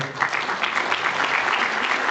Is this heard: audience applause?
yes